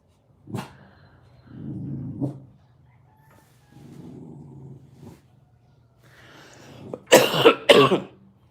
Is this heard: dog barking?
yes